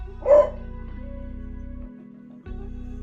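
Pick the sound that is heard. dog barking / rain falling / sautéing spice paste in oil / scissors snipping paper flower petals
dog barking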